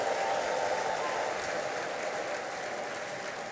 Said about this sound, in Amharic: በእልልታ ጭብጨባ ለጌታ